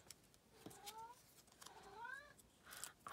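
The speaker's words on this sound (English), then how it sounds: "I think my cat's in here, and it's feeding time for my cat." A hungry house cat meowing at feeding time gives several short rising and falling meows, close but fairly quiet, in an otherwise calm room.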